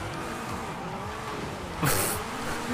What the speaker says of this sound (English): I will put a clip with the guys drifting around in the street scene